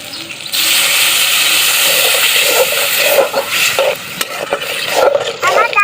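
Water added to a potato filling frying in a pan for singara gives a loud hissing surge that settles into bubbling sizzle, with spoon scrapes and faint clinks toward the end.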